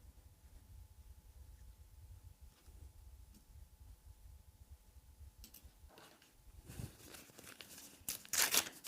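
Backing paper is peeled off a sticky thread sheet for a floral sewing wall hanging, a faint crackle building into louder tearing and crinkling bursts near the end, with a quiet low hum beneath.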